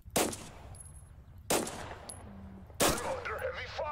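Three sharp gunshots ring out at roughly even intervals in the video game Total Conflict: Resistance, close and loud with brief ringing tails, and a faint electronic chirp follows the last one.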